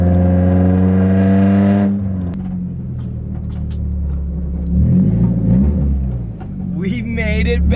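Loud, close exhaust note from a straight-piped Nissan S13 holds a high rev, then falls to a rough, burbling idle-level rumble that swells again, with a voice speaking briefly toward the end.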